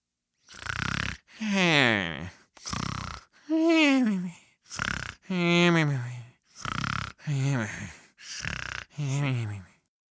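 A voice imitates snoring, with about ten drawn-out, rhythmic snores in a row, each separated by a short pause and heard up close without other sound.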